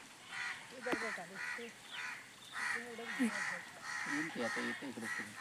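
Many crows caw repeatedly close by, harsh overlapping calls coming in bursts from a noisy flock.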